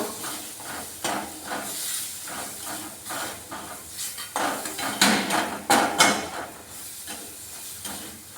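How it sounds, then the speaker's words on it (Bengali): Spice masala of chili powder, salt, sugar and garam masala stirred in a pan for egg curry, with repeated scraping and clinking strokes over a steady hiss that swells to louder bursts midway. "দিয়ে আমি এটা এখন নাড়তে থাকবো।"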